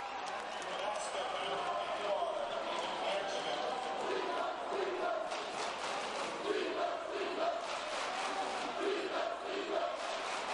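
The crowd at a high school basketball game between New Trier and Maine South makes a busy murmur of voices and shouts in a gym, with ball bounces and a commentator talking over it.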